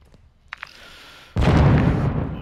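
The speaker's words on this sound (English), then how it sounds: "Oh, an explosion." A couple of faint clicks, then a sudden loud blast that lingers as a heavy rumbling roar, an explosion in Warzone 2.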